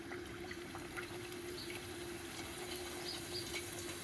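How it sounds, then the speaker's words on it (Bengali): A luchi, a puffed flatbread, frying in hot oil, with a steady hiss and faint crackle throughout and no voices. "এটা গরম হয়ে গেছে, একটা লুচি দিয়ে ভেজে নিচ্ছি।"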